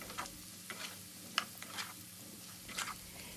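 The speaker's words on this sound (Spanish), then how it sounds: "Puedes ayudarte inclinando el sartén y bañando las papitas y la cebolla con la mezcla de mantequilla y aceite." Baby potatoes and onion fry in a mix of butter and oil, a faint steady sizzle broken by a few soft scraping stirs of the pan, with no voices.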